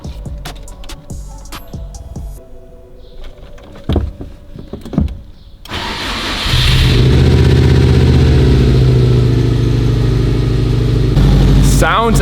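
A 2007 Subaru Hawkeye STi engine under rebuild, running without coolant, is cranked and fires up midway after clicks and clatter from work in the bay, then settles into a loud, steady idle that holds close to the end.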